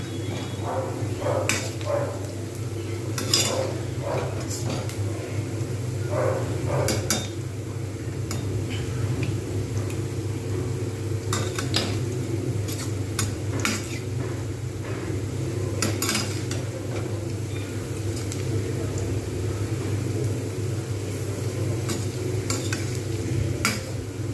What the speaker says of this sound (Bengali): ধীরে ধীরে কিন্তু এটাকে ভাজতে হবে চট করে ভাজলে কিন্তু হবে না